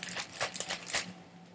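Plastic bags holding cut fabric strips for quilting crinkle and rustle as they are handled, a short burst of light crackling close by.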